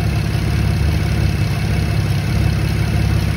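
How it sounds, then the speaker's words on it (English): A 2010 Chevrolet Camaro LT engine idles close up, a steady low rumble with a faint regular pulse and nothing else. "Listen to the engine."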